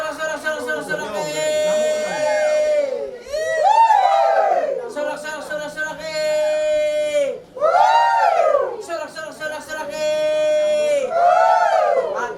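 Wedding guests cheer and shout in loud, sustained bursts that swell and fade in repeated waves, with many voices mixing together at close range.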